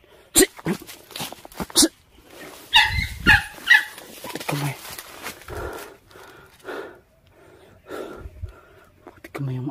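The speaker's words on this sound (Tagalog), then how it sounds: "May aso guys." Several sharp barks ring out in bursts, close by, with whines and a voice speaking between them.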